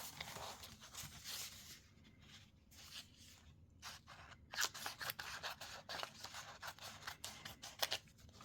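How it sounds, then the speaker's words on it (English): Scissors cutting a single paper page for artist trading cards: close, quiet snipping and crisp paper rustles in irregular bursts, heard alone without talk. "Make sure there's only one page that I'm cutting out, not two."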